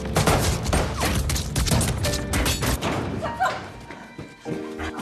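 Sustained gunfire from a film scene: dense, rapid bursts of shots and heavy thuds pile up over several seconds, loud and close, tapering near the end.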